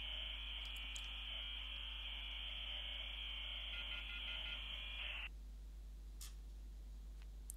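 A telephone rings in the video game SUPERHOT, a steady buzzy electronic ring held for about five seconds and then cut off, fairly loud against a quiet low hum, with no voices.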